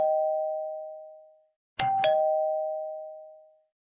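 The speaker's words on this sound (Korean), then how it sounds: "오전 10시 현관 초인종이 울렸습니다." Front-door doorbell at a home, two chimes: a clear sustained tone that rings out and decays, then after a short pause a sharp struck two-note ding-dong that rings on, loud and isolated.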